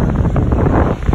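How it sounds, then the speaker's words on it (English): Ocean waves break at Redington Beach, Florida, a steady roaring wash of surf with heavy wind buffeting the microphone, loud and continuous throughout. "There's just something about the ocean and the waves"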